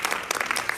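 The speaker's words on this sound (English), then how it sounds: "Give him a round of applause." Brief audience applause, a quick burst of dense overlapping hand claps that fills the space fairly loudly.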